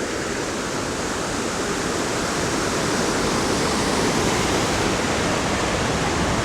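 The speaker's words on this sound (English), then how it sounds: "Got two sets of small waterfalls here." Small waterfalls at Niagara Falls State Park pour in a steady, dense rushing roar, constant throughout with no other sounds.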